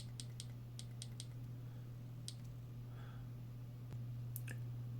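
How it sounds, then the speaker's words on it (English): Sharp, crisp clicks from the tail switch of a Wurkkos TS22 flashlight, several quick presses in a cluster at the start and a few more later, close and distinct over a steady low hum. "The switch is easy to locate by moving your fingertips over it and is quite clicky."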